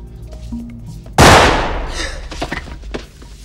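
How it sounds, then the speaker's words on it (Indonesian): A single loud gunshot cracks sharply after a moment of quiet, followed by a fading reverberant tail and some faint scattered noises, in a film scene. "melepaskan tembakan ke arah Sel hingga..."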